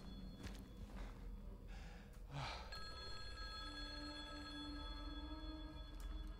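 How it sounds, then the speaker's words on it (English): A telephone rings in Silent Hill 2 at Rosewater Park, a faint ringing tone over a low murmuring game soundscape, with a soft footstep-like thud partway through. "the phone is still ringing"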